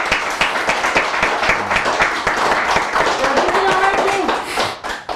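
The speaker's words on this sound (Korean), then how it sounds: "박수 한번 쳐주세요" Audience clapping at a Korean political event, loud, dense hand claps close by, with voices and cheering mixed in beneath the applause.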